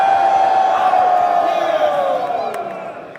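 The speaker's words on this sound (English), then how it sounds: "And our crowd goes wild!" Crowd at a blockchain business conference in Amsterdam cheering and whooping loudly, a dense roar that swells then slowly fades over a few seconds.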